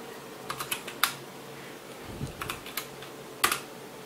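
Typing on a Velocifire TKL01 mechanical keyboard, a budget tenkeyless board hooked to an old Hewlett Packard computer: scattered clusters of sharp, close key clicks in short bursts, with pauses between them and a low hum underneath.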